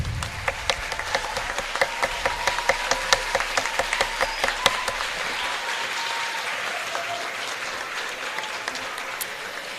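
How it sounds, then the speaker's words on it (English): An audience in a school setting gives steady applause for fifth graders at an elementary promotion ceremony. The dense clapping carries distinct sharp individual claps close by and continues evenly throughout. "let's give one last round of applause for all those fifth graders"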